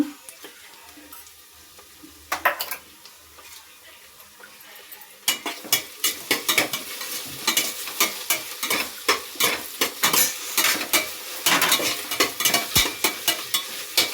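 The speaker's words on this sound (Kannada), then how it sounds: "ಸ್ವಲ್ಪ ಹಸಿ ವಾಸನೆ ಹೋಗೋವರೆಗೂ ಹುರ್ಕೊಳ್ಳೋಣ" Two spoons of ginger garlic paste fry in a hot pan for a soya green biryani, with steady sizzling and a run of scraping stir strokes that grow louder and more rhythmic after a quiet opening.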